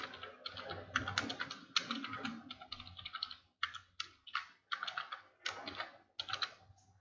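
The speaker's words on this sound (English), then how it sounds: "So here you can type the company name" Company details typed into a computer keyboard during software setup: a steady run of fast, close key clicks in quick bursts with brief pauses, no talking.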